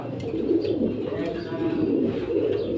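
Pigeons at a market stall cooing in soft, low, repeated rolling calls, close and steady, with people talking faintly in the background.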